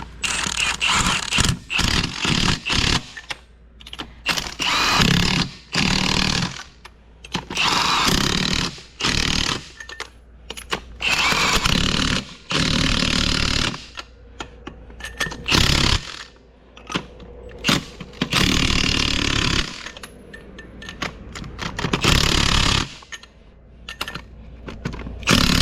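A power tool runs in repeated whirring and rattling bursts while lug nuts are tightened on beadlock wheels of a four-lug vehicle, close and loud, with short pauses between nuts.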